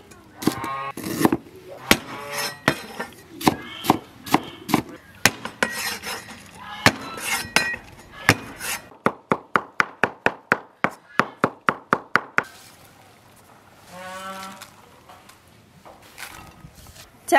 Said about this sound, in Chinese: 剁点葱姜蒜末洋葱